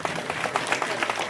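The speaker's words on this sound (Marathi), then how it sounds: "टाळ्या वाजा एकदा." A crowd at a temple gathering claps together briefly in a short burst of steady, moderate applause at close range.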